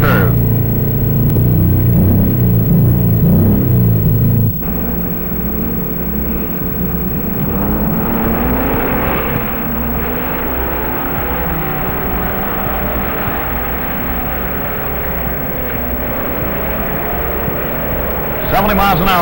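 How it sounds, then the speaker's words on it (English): Vintage race cars on a 1954 ice track, including a supercharged MG, rumble steadily with engine drone and passing roars throughout, loud and continuous, under a commentator's running narration. "Car rockets back and forth a couple of times and gets straightened out."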